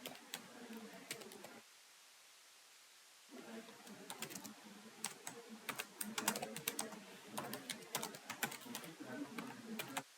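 Someone types on a computer keyboard while writing code, quick irregular bursts of clicking keystrokes close by, with a short pause of silence before a denser run of taps.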